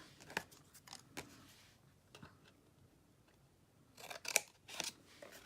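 Scissors snip paper in a handful of crisp, close cuts, a few scattered early and a quick cluster near the end, faint against a quiet room.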